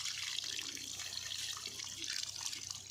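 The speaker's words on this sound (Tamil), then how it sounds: "மாமா கழுவிட்டுருக்காரு, நான் தண்ணி பிடிச்சி ஊற்றிட்டுருக்கேன்." Water poured continuously over cracked coconut halves during washing, a steady close splashing and trickling stream with small irregular drips and no talking.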